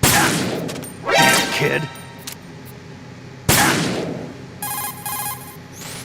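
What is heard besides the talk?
gunfire in Metal Gear Solid 2 video game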